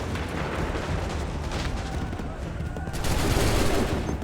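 Musket volleys roar in Assassin's Creed 3 battle gameplay at Lexington and Bunker Hill, a dense, continuous crackle of massed gunfire that stays loud throughout and swells slightly toward the end.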